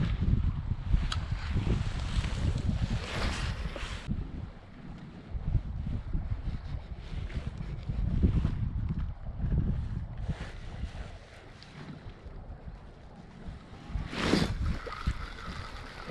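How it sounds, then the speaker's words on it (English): Wind buffets a microphone in continuous low rumbling gusts while fishing at Inks Lake State Park, with a sharper gust near the end and faint background noise throughout. "but it is windy still"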